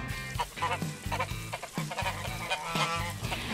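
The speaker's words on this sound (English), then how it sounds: "they're very good watch geese." Geese kept as watch birds in a high school garden honk repeatedly in a loud, close, overlapping chorus of harsh calls with no talking.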